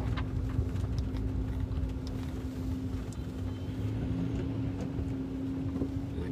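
Dense road traffic crawling through a jam at a road-repair site, a steady loud rumble of engines with a low hum running throughout, close and continuous with no talk.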